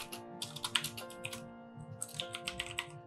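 Keyboard typing on a computer while entering a product name into a WordPress form, with quick bursts of close key clicks, a pause mid-clip, then another run of keystrokes, no talking.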